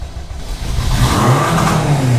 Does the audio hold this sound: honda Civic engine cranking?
yes